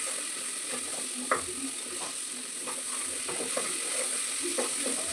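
Coriander powder, garam masala and chilli powder sizzle in hot oil in a pan for a simple rice bath, a steady close hiss with a few faint clicks of stirring, no voices.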